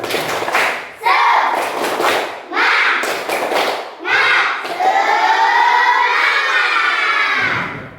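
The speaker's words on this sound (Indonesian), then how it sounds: "Coba satu kali tepuk semangat." Fourth-grade schoolchildren in a classroom doing a rhythmic spirit clap, chanting in unison between sharp bursts of clapping in a repeating pattern, ending in a long sustained group shout.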